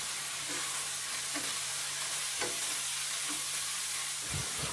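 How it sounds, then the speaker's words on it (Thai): Blanched spaghetti stir-fried in a wok with a basil and chili mixture, a continuous close sizzle broken by periodic scraping tosses of the spatula, with no one speaking. "ผัดเส้นสปาเกตตี้ให้เข้ากันให้หมดเลยนะครับ"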